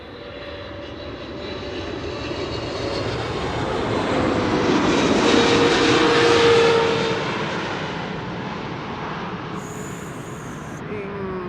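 A KLM Boeing 777-300 jet passes at Amsterdam Schiphol Airport, its engine roar steadily swelling to a loud peak mid-clip and then slowly fading away, with no talk over it.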